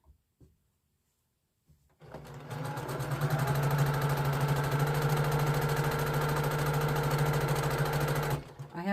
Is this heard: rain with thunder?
no